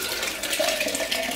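Water poured from a tap into a bowl of oatmeal, a steady close splashing stream with a faint rising pitch as the bowl fills, no voices.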